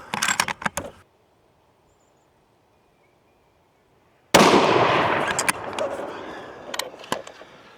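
Rifle fire while hunting rabbits outdoors, a sharp close shot whose echo rolls away over several seconds after a quieter stretch, with a few brief clicks and rustles at the start.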